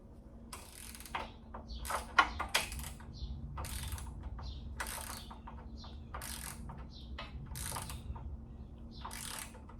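A hand ratchet tightens bolts on a 1972 Volkswagen Super Beetle engine during a refresh, giving close, crisp bursts of clicking strokes repeated in an uneven rhythm over a low steady hum, with no talking.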